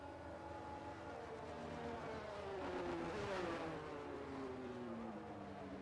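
F1 race cars roll back toward the grid at Spa in the Belgian Grand Prix of F1 22, giving off a steady, moderate engine whir with a sweeping pitch that swells briefly midway.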